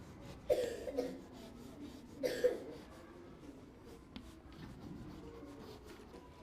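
A teacher writing words on a classroom board with chalk or marker, faint scratchy strokes in short irregular bursts with soft taps between, in a quiet room with no talking.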